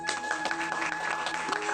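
A crowd at a Gita Jayanti gathering claps steadily in a dense wash of applause, with a voice faintly audible over it.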